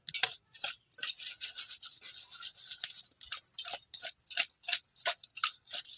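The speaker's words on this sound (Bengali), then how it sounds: "লবণ আর হলুদ দিয়ে সুন্দর করে নেড়ে চেড়ে মাখিয়ে নিই।" Shrimp being mixed by hand with salt and turmeric, for a bottle gourd and shrimp dish, make quick, rhythmic, wet squelching clicks, close and fairly quiet, repeating steadily with no talk.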